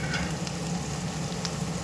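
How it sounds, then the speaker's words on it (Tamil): Sliced mushrooms frying in hot oil for a spicy mushroom gravy, giving a steady close sizzle with faint crackles over a constant hiss, no voices. "இந்த ஆயில்லே வந்து நம்ம வந்து மஷ்ரூம் ஃப்ரை பண்ணிக்கலாம். ஸோ மஷ்ரூம் ஆட் பண்ணிடலாம்."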